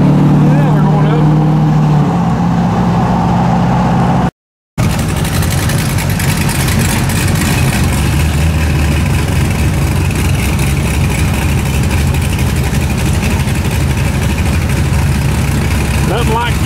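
Friday evening road traffic heard from inside a truck, a dense rumble of engines and road noise at close range, with an idling engine early on.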